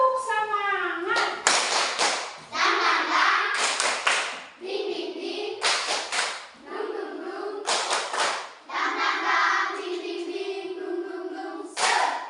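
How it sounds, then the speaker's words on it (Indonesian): A school class performs a rhythmic spirit clap, bursts of group hand claps in patterned sequences alternating with children chanting along, fairly close in an indoor classroom. "Tepuk semangat."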